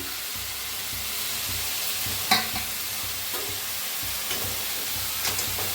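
Dill greens stirred into a hot pan with sprouted moth beans, a steady sizzle and hiss of frying with occasional spoon scrapes and clinks against the pan, close and continuous.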